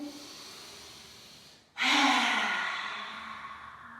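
Parents and children in a yoga exercise blow out a long audible breath together, a soft sighing exhale after a brief pause, close and quiet with no words spoken.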